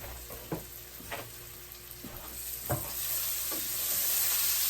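Garlic cloves sizzle in a pan with onions over a low flame for curry chicken, a steady frying hiss with several soft stirring scrapes spaced through it, close and without talk.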